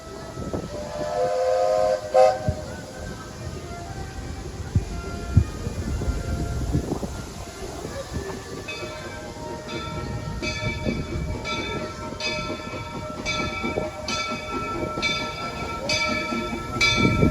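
Walt Disney World Railroad steam train running with repeated sharp whistle blasts, hissing steam and rolling wheel clatter, the whistles coming in a regular series during the second half.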